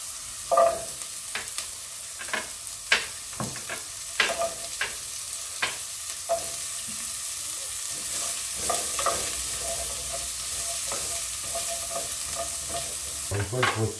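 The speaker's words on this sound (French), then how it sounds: "Une fois que vos oignons ont blondi" Onions fry over medium heat in a pan for artichokes en barigoule. Sharp spatula clacks and scrapes come first, then a steady sizzle builds, all close by and with no talking.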